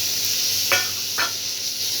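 A spice mixture with cluster beans is stirred in a pan: two short scraping strokes over a soft, steady sizzle.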